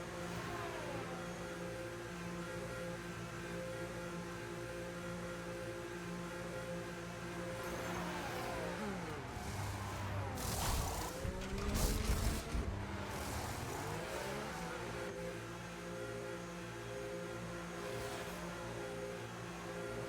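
A racing car's engine whines steadily as it leaves the pit lane at Interlagos, Brazil, in a racing video game, with other cars roaring and sweeping past in the middle of the stretch before the drone settles again.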